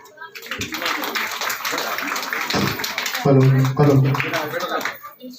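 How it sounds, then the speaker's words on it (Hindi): Audience at a school annual function in Mavli clapping, uneven bursts of applause mixed with a loud announcer's voice and children's voices over a hall's echo. "तालियां जारी रहे"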